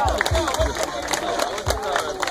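Crowd cheering and clapping after a street dance battle in the rain, a dense, steady wash of voices with rhythmic low thumps underneath and shouting voices mixed in throughout.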